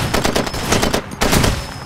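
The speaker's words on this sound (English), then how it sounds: "You shoot with a shotgun" Rapid gunfire from a firefight in the video game Far Cry 2, a dense run of loud bursts that briefly drops off, then returns with more close shots.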